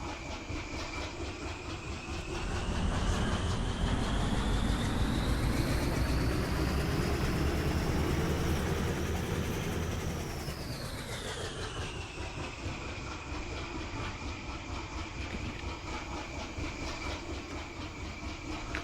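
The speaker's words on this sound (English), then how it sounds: "Let's just listen to the engine." Locomotive engine in the Derail Valley train simulator running steadily at idle, swelling louder and rougher for several seconds as it revs, then settling back to a constant low rumble with a high whine, no talk.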